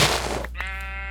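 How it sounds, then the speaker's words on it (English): A single sheep bleat from a video game, a clear wavering baa lasting under a second, heard alone and close. "Hi, red sheep."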